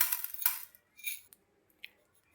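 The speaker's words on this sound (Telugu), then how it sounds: "ధనియాలు యాడ్ చేస్తున్నానండి" Coriander seeds pour from a spoon into a pan while making a mint and dried red chilli chutney, giving a few light clinks and a short rattling scatter, quiet and close with pauses between.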